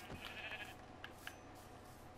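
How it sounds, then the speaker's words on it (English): Sheep in the Minecraft video game bleat softly a few times in a short, faint burst against a quiet background. "Dude, there's so many sheep."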